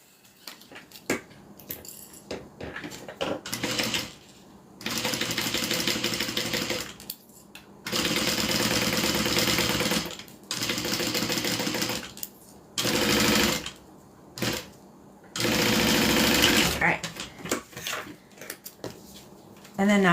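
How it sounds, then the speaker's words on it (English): A sewing machine runs in several loud bursts of rapid stitching, stopping and starting between them, with quiet pauses and a few handling clicks in the gaps. "and then we're just going to sew that down."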